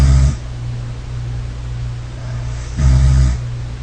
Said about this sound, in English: the patient had moderate snoring